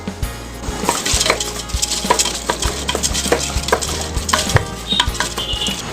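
Rice is stirred into masala in a pan with a spoon, giving repeated scraping strokes and sharp knocks against the metal, close and fairly loud, with a faint sizzle underneath.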